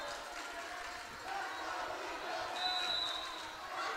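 A volleyball crowd in a high-school gym cheering and murmuring, a steady distant roar of many voices with a few whistles and shouts rising and falling, fairly faint throughout.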